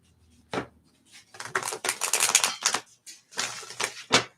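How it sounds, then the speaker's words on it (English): A deck of cards being shuffled up close for a reading, with a sharp riffle, then a long dense stretch of crisp flapping and clattering, and a few more quick bursts near the end. "I'm shuffling my cards"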